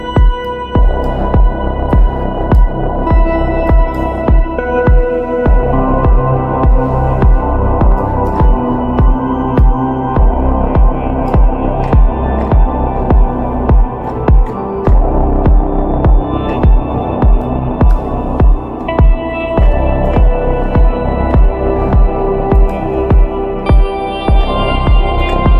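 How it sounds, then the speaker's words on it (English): Deep electronic techno with a big room reverb, a loud, dense sustained wash of humming, throbbing tones and steady pulses, with no voices. "put like a big reverb, silver reverb here with my grandiose preset, a really big room, really trippy"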